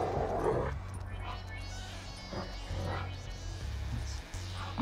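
A dog in the GTA 5 video game, giving a few short whimpering barks and yips over a constant low in-game hum, with game ambience throughout.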